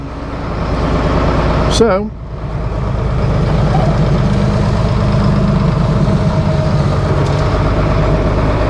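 A diesel engine running steadily after its fuel system was primed, a loud close idle with a rhythmic low throb, someone speaking briefly over it early on.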